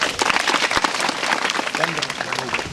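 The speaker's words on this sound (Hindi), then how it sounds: "पर्यावरण से संबंधित अच्छी कृति उनने मैसेज देते हुए एक तालियां बजनी चाहिए।" An audience at a school environmental prize ceremony in Pandurna Range, South Chhindwara, bursts into dense, lively clapping for a few seconds, with a voice speaking over the applause.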